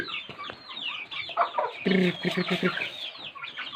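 Chickens clucking in a backyard flock, a steady scatter of short clucks at close range with a brief louder burst of calls midway.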